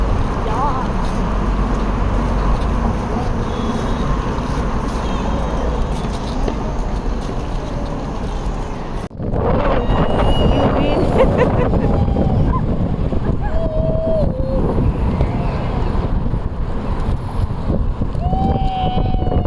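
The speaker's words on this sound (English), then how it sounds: "Yeah. It's so windy." Loud gusty wind roars across the microphone throughout, with people talking underneath and a brief break partway through.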